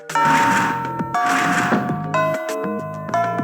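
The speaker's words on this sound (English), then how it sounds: "Miss Fujiwara marches into the classroom as the bell sounds." A school bell chime in the Fate/EXTRA video game, a series of bright ding-dong tones in a repeating melodic pattern, clear and close, with no talk over it.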